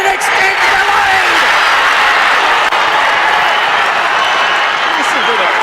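A large crowd at a Bendigo senior football grand final roars and cheers without a break, the noise dense and loud throughout, with whistles and yells rising out of the wash of sound.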